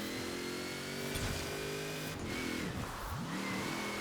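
A 3-ton Mercedes Unimog truck's engine drones steadily while drifting in Forza Horizon 4, holding a loud, continuous mid-pitched roar with a couple of dips and rises in revs, no talk over it.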